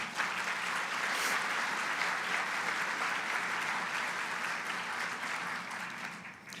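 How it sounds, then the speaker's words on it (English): Applause at the 2024 Women in Business Awards for event partners, a large crowd clapping in a sustained, even roar that tapers off slightly toward the end. "A huge round of applause for partnering with us."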